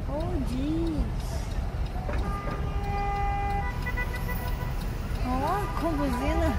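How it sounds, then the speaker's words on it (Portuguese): A car horn honks on a New York City street at night, one steady, sustained blare over constant traffic roar, with wavering siren-like tones and voices nearby. "Olha lá, com buzina."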